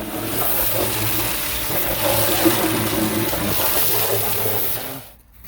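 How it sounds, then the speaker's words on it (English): A hydrovac excavator blasts pressurized water and vacuums soil out of a hole during a guy wire anchor repair, a loud continuous rushing roar with an engine drone beneath that drops away near the end. "we used the hydrovac pressurized water and basically a huge vacuum cleaner to start sucking a hole out of the ground"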